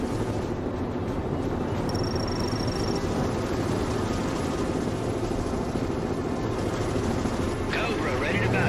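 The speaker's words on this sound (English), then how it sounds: "Apache initiating a flyby attack." An Apache helicopter makes a flyby attack in the World in Conflict video game, heard as a continuous loud rotor and engine roar with rumbling combat noise, steady throughout the clip.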